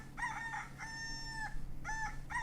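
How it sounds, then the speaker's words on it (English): A recorded rooster crows loudly and close, with a drawn-out cock-a-doodle-doo and short clipped calls before and after, over a low background hum. "It's a rooster. I hear a rooster."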